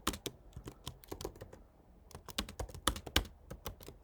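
A computer keyboard clatters under fast, irregular typing of C++ code, with bursts of crisp close-up keystrokes and a short lull midway.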